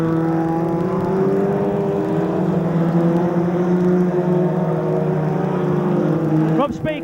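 BriSCA F2 stock cars racing through the pit turn at Bolton, several engines roaring together in a loud, sustained drone that drops off sharply near the end, with a commentator talking over it.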